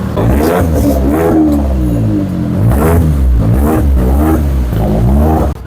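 A second-hand car engine starts and revs up and down repeatedly, close and loud, its pitch rising and falling before cutting off abruptly.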